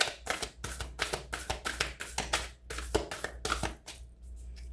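A deck of cards being shuffled during a spiritual card reading, a run of quick riffling bursts repeating at close range, fairly quiet, with no talking.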